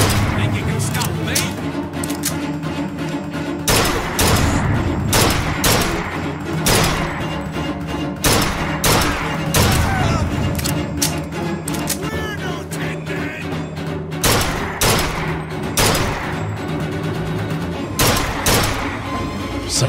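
Rapid bursts of gunfire from the video game Bioshock Infinite, a dense run of sharp shots and booming blasts repeating throughout at steady loudness, with no talk over them.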